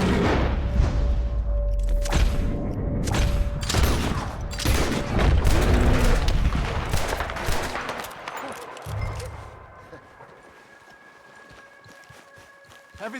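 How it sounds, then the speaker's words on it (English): Gunfire in the Red Dead Redemption 2 video game, a dense burst of booming shots mixed with hoofbeats and scuffling that fades to quieter ambience with a tone toward the end. "Shoot that thing, please!"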